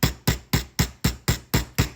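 A meat hammer pounds boneless pork chops flat in a kitchen, eight loud, evenly spaced thuds landing about four times per second, close up with no talking.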